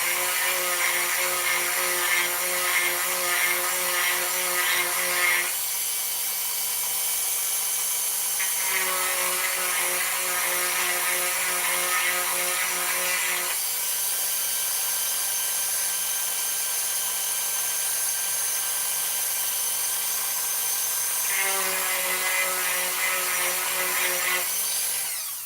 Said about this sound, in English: I want to make that nice and soft. And I'm going to do that using this Dremel.